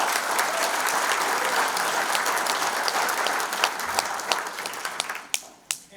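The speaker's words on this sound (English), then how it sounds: "Please give Marcy a good round of applause." Dense, sustained audience applause fills a hall of fame induction ceremony in St. Joseph, loud and steady before thinning into a few scattered final claps.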